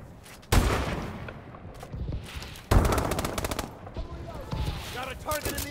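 Rapid automatic gunfire from Call of Duty Advanced Warfare, loud bursts with sharp attacks and rattling reports, arriving in two heavy volleys with quieter shots between and a voice talking underneath.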